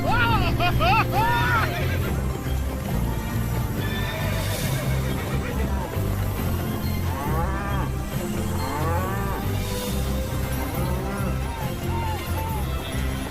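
A herd of cattle arrives with horses on a ranch in a Christmas romance film: loud overlapping moos and horse whinnies with hoofbeats clip-clopping throughout, a dense, continuous livestock din with voices mixed in.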